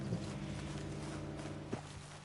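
Soft clip-clop of horse hooves in Red Dead Redemption 2, a few quiet irregular steps over a low, humming background with one slightly sharper knock near the end.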